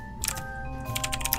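Computer keyboard typing during a Kerbal Space Program session: a few quick clusters of light key clicks over a steady background hum, close and fairly quiet, with no talking.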